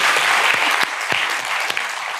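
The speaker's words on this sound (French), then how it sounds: "On va applaudir ça, les amis." An audience claps at a talk-show café event, producing a dense burst of applause that carries steadily through the whole moment with a few sharper individual claps standing out.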